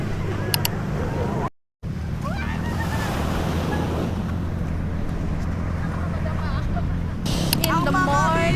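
Sea surf washes onto the beach at San Felipe, Zambales, a constant broad roar with heavy wind buffeting the microphone, a brief dropout early on, and faint voices near the end.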